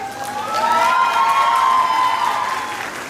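A crowd claps and cheers for the prize-winning runner-up team, Sri Guru Ramdas College of Nursing, at a prize distribution ceremony; loud continuous applause mixed with shouts and excited voices, peaking midway.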